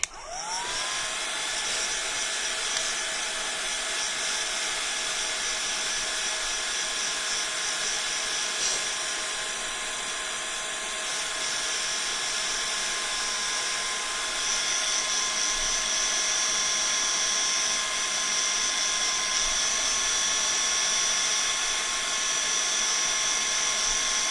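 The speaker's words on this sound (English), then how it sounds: "give that a little bit of a blast dry" A heat gun blasts hot air to dry tissue paper on a handmade crafted box. Its steady, whining drone runs loud and close for the whole stretch, with the pitch shifting slightly partway through.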